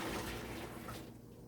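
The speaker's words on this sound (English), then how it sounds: "I'm just gonna throw some of the water." Water being poured out from a pot while making guava jam at home, a brief splashing rush that fades toward the end, close and fairly quiet.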